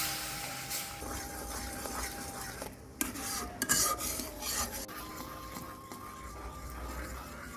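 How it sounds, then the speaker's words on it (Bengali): Sugar syrup stirred often in a pan to keep it from burning, while making sun-dried ripe mango aamsotto; scraping and rubbing of a utensil against the pan with occasional clinks, close and quiet, no voices. "এখন ঘন ঘন এরকম নাড়াতে হবে, না হলে চিনি শিরাটা পুড়ে যেতে পারে"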